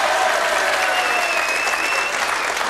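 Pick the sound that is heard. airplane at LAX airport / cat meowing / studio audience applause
studio audience applause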